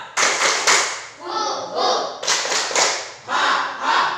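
A class of children performs a rhythmic spirit clap, with bursts of patterned hand claps and thumps in several groups, their voices chanting along loudly between and over the claps.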